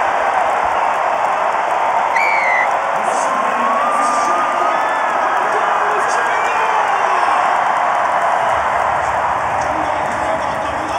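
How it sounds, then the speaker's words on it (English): A big crowd cheers loudly and without a break at a women's rugby match between Hong Kong China and Kazakhstan at Melrose, a dense roar with whoops and shouts, a commentator talking over it. "And that's got the biggest cheer of the evening."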